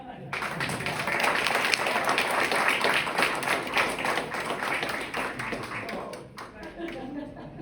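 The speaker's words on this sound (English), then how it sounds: "we want to also give a huge round of applause to our director, leader, I don't know, jack of all trades from what I'm learning, Mr. Tom Carmody" An audience applauds director Tom Carmody at an Essex Harmony choral concert, a dense, steady wash of many hands clapping that holds for several seconds before thinning slightly at the end.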